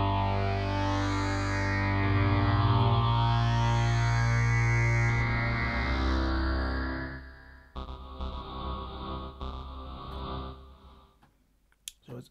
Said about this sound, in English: That reverse delay, reverb is just